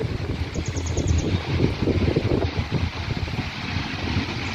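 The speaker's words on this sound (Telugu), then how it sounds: "ఉన్నట్టుండి ఒకేసారి పెద్దగా గాలి వర్షం స్టార్ట్ అయింది" Strong gusty wind blowing outdoors before a rainstorm, a steady loud rushing roar with buffeting gusts across the whole stretch and no speech.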